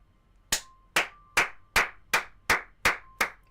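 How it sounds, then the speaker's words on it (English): Eight slow, evenly spaced hand claps ring out crisply and close, each one sharp with a short decay, no talking. "Just give myself a round of applause here."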